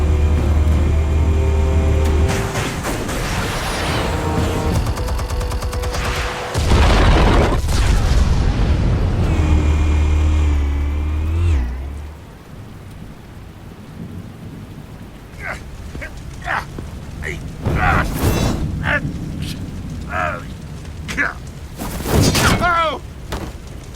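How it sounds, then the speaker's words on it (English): Explosives detonating in Batman: The Telltale Series, a loud booming blast with long rumbling decay, followed by quieter crackles and thumps and brief voices. "Explosives armed. Fire when ready."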